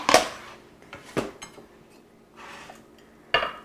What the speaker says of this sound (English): I'm just going to chop up a little bit of onion